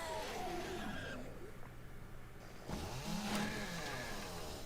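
A chainsaw in the zombie survival game 7 Days to Die buzzes and revs while cutting, fairly faint, with its pitch rising and falling over a couple of passes.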